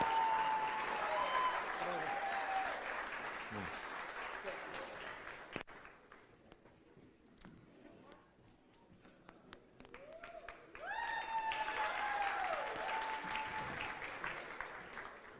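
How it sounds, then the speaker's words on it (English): An audience at a State of the City event applauds warmly, a dense round of clapping that dips midway and then swells again, with a voice over a public-address system heard alongside. "Let's big round of applause for Roed Leon Moreno Jr."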